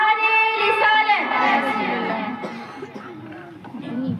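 A crowd at a religious gathering shouts its response to Takbir and Risalat slogan calls, a loud, massed chant of many voices that swells and then trails off into scattered calls.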